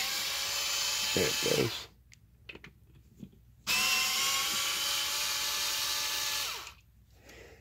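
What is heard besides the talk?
cordless impact driver removing screws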